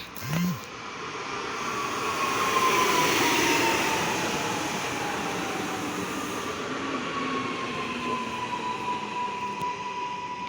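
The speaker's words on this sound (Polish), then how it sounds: "wjazd kolei wielkopolskich do Wolsztyna, niestety z impulsem." A Koleje Wielkopolskie Impuls train runs toward Wolsztyn, a fairly faint rumbling pass heard from a distance, with a long thin squeal or horn tone drifting through and a brief low sound at the start.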